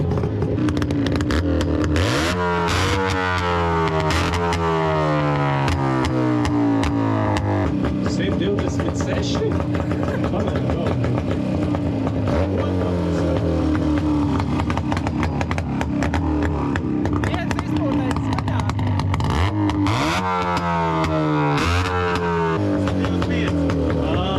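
A gold-coloured motorcycle at a retro vehicle event in Grobiņa revs its engine as it rolls closer, with loud repeated throttle surges rising and falling over a constant idle while people talk nearby.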